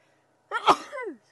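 A single sharp human sneeze, close and fairly loud, bursting out abruptly and trailing off within a second, heard during a morning safari drive at a lodge.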